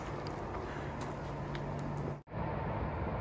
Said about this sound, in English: You can hear the traffic now.